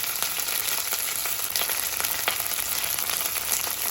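Ginger garlic paste sizzles and fries in a hot pan for tamarind rice, a steady dense crackle with scattered sharper pops and no one speaking.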